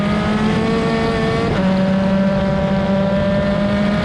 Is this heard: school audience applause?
no